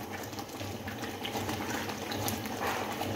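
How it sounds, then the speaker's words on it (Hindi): Cooking oil is poured into a homemade tomato sauce, making a continuous liquid hiss with faint bubbling and sizzle, steady and close, with no one speaking. "इस पॉइंट पे हम 1/3 कप ऑयल डालेंगे, कुकिंग ऑयल।"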